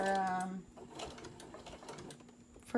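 A sewing machine stitches a candy wrapper zipper pouch, a brief rapid mechanical hum at the start, then lighter clicking and handling sounds with a voice talking faintly underneath.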